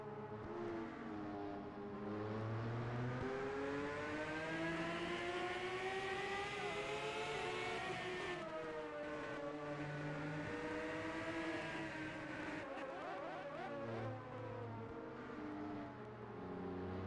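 Formula cars racing in Formula Brash's Spanish Grand Prix, with several engines droning and whining loud and steady, pitch rising and falling through gear changes as the pack runs together.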